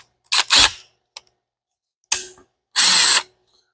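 Ratchet socket wrench turning on a Ford Turbo 460 engine, with four close, crisp bursts of rapid clicking separated by short pauses, the last burst longest and loudest.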